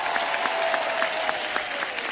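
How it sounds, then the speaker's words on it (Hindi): Steady applause from a TV comedy show studio audience, dense clapping throughout with no pauses, fairly close and even in loudness. "जोरदार तालियां शबीर साहब के लिए"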